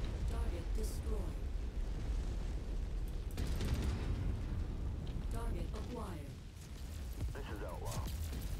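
An enemy mech blows up in a combat video game, heard as a burst and rolling blast among other game noise, with a radio-style voice talking over it.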